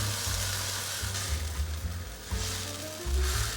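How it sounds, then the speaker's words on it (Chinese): King oyster mushrooms and spinach stir-fried with kimchi and a splash of water sizzle steadily in a hot pan, with a loud frying hiss and brief bursts of stirring. "快速翻炒。"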